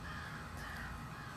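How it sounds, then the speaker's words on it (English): A crow caws loudly and repeatedly outdoors in a harsh, continuous run of calls with no speech over it. "Crow really is just going to town."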